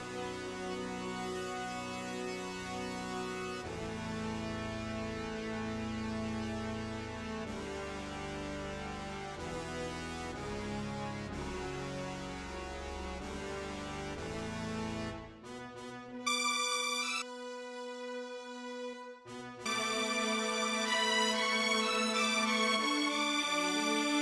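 Orchestral tubas play alone in a production mix for a remake, holding deep sustained notes in a steady phrase-by-phrase rhythm. The texture thins briefly near the end before the full low brass returns, loud and close.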